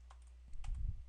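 Control-T typed on a computer keyboard: a couple of quick, faint key clicks over a low steady hum.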